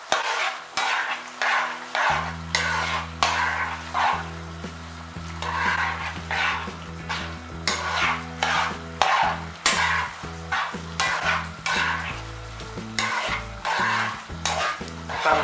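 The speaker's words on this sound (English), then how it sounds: "Let's put our pasta here. And let's mix it together." Tortelloni filled with spinach and mozzarella being stirred in a pan, with repeated scraping strokes of a spoon over a soft sizzle in a quiet kitchen.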